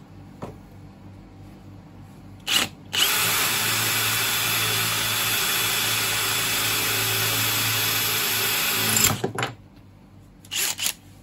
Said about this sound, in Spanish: Vamos a ver primero cómo se comporta taladrando sin percusión